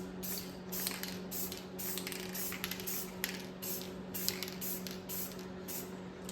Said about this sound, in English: I'm no professional spray painter here